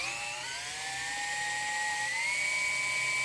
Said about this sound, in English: the easiest way to drill this is just with a hand drill